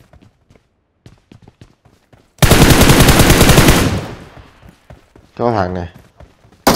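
Automatic gunfire in a video game: after scattered quiet footsteps, a long, loud sustained burst erupts, fades, then a shorter second burst follows, with someone talking briefly in between.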